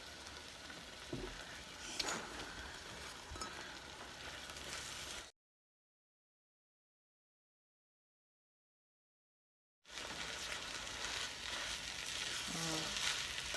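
Egg fried rice sizzles and crackles in a small frying pan, a steady moderate frying hiss with occasional stirring scrapes, cut by a stretch of complete silence midway.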